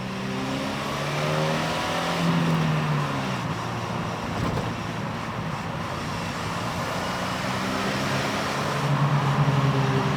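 A cheap Porsche sports car is driven along, its engine and road noise forming a steady, close drone that swells slightly at moments, with no talking.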